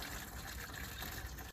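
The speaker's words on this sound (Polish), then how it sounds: "Wodospad płynu." Coolant pours steadily from a disconnected radiator hose on a BMW E60, a faint, continuous gushing wash of liquid that cuts off abruptly at the end.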